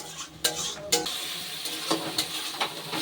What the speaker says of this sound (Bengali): এবার নুন হলুদ এই মশলাটা দিয়ে ভালোভাবে কষাতে হবে।